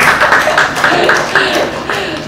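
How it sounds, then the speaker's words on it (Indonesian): An audience applauds at a press event where badminton player Greysia Polii formally announces her retirement, with steady, dense clapping from nearby that carries on throughout, along with faint voices mixed into the crowd noise. "terima kasih buat tepuk tangan dong buat teman-teman semua yang di sini"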